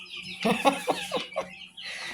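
Young chickens in a garage brooder give a quick series of close, short clucks and chirps, then fall briefly quiet.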